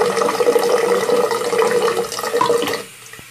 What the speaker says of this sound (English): low velocity cold water